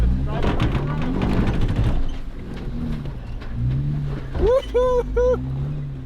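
A Jeep grinding and climbing a rough uphill stretch of the Rubicon Trail, its engine droning low and steady up close, with excited voices and a cheer breaking out near the end.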